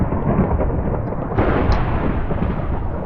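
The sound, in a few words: thunder in the video game Minecraft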